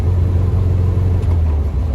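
A car engine idles roughly and steadily, a low rumbling drone close by with slight unevenness, no voices.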